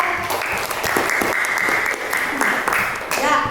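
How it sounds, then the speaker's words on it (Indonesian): Applause from a classroom group closing their presentation in an Indonesian teacher-training session, a dense steady clatter of many hands, close and loud, filling the whole stretch with a brief voice or two mixed in. "tepuk tangan kelompok 3."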